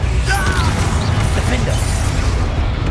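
A Bombarda spell blast in the Hogwarts Legacy video game, a burst of crashing, clattering impact effects mixed with shouted character voices in the middle of a busy duel.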